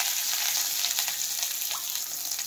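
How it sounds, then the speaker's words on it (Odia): Onions and capsicum frying in hot oil with dried chillies give a steady, bright sizzle with faint crackles, close and fairly quiet, with no voices. "ପିଆଜ ପ୍ଲସ୍ କ୍ୟାପ୍ସିକମ୍ ମାନେ ମିକ୍ସ ହେଇ ପଡ଼ିବ, ପକେଇକି ତାକୁ ଟିକେ ବଢ଼ିଆ ଭାବରେ ତେଲରେ ଭାଜିଦେବା"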